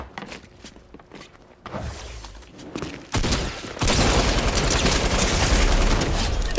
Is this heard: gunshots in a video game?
yes